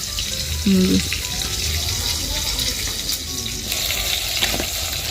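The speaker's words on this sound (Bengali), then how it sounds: "আজকে ভালো করে তেলটা গরম করে মাছগুলো এক এক করে দিয়ে" Fish fry in hot oil with a steady crackling sizzle, while clattering and a brief tonal knock sound nearby.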